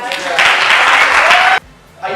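Audience applause at a youth peace and reconciliation workshop, a dense burst of clapping lasting about a second and a half, then a brief pause and a short second round.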